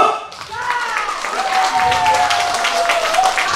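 An audience at an outdoor pumba trot performance breaks into clapping that builds and holds, with a voice talking and calling over the applause.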